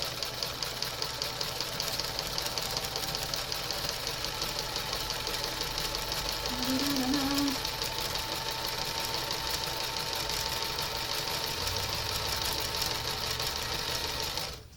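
A sewing machine stitches sequined fabric for a headband in one steady, fast mechanical run lasting about fourteen seconds, close by and uninterrupted, then stops abruptly.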